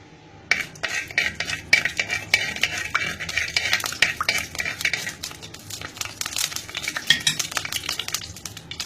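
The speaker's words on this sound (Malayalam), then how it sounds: "ചട്ടി നല്ല ചൂടായിട്ടുണ്ട് നമുക്ക് അതുകൊണ്ട് തന്നെ വേഗം തന്നെ നമുക്ക് ഉലുവ ഇട്ട് കൊടുക്കാം" Fenugreek seeds hit hot coconut oil in a clay pot and sizzle steadily while a spoon stirs and scrapes against the pot, making continuous close crackling and clinking throughout.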